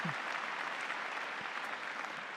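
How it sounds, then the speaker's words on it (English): Audience applause at a high school commencement, a broad, even wash of many hands clapping from a large crowd, somewhat distant and sustained throughout. "Let's give them another round of applause."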